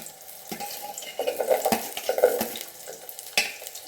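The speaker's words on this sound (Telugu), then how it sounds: "అన్ని వెజిటేబుల్స్ని ఫ్రై చేస్తాను నేను. ఫస్ట్ ఆనియన్స్, క్యారెట్ అండ్ పచ్చిమిర్చి" Onions, carrot and green chili fry in a pan for veg pulao, a steady close sizzle broken by the scrape and clack of a spoon stirring the vegetables.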